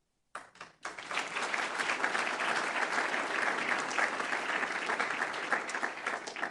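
A crowd's sustained applause fills a hall at an Illinois public event honoring a dedicated team, steady and fairly loud from start to finish after a brief hesitant opening.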